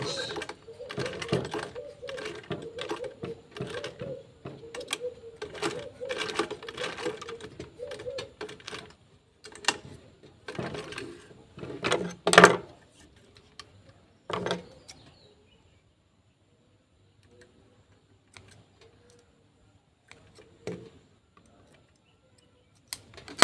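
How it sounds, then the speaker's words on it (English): Sewing machine stitching seams on a beginner's Olivia bag, running in repeated rapid bursts with short pauses between them, then mostly quiet near the end apart from a few faint clicks. "So I'm going to sew another line of stitch on top."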